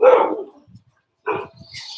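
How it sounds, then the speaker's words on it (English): A dog barks twice nearby, two short sharp barks separated by a pause, with faint household noise in between and afterward. "I like to have my dog barking and stuff like that going on."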